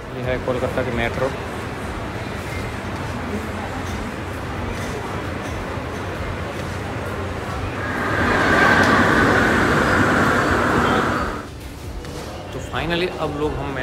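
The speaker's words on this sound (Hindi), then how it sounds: "यह है कोलकाता की मेट्रो" A Kolkata metro train rumbles through a tunnel, with a steady roar that swells loudly in the middle and then drops away, while people talk over it.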